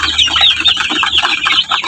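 Young brown-feathered laying hens about two months old, raising a dense, continuous chorus of chirps and clucks close by, with no talking.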